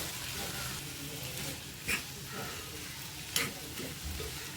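Turmeric stirred into hot oil for a tempering: steady sizzling while a spoon stirs, with two sharper scrapes or taps against the pan; no voices.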